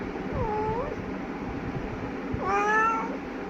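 A pet cat meows twice nearby, a short mew followed by a longer, rising call over a faint room background.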